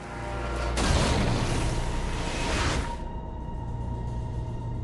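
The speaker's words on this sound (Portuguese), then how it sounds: "A explosão e os estilhaços derrubam o avião britânico." A 1939 bomb explodes beneath the British aircraft that dropped it near a German submarine, bringing the plane down: a sudden loud blast swells into a roaring, crackling rumble for about two seconds, then fades to a steady low drone.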